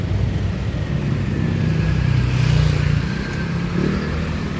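Motorcycles rumble past continuously on a busy road at night on EDSA near Guadalupe, Philippines, engines droning and swelling slightly as they go by.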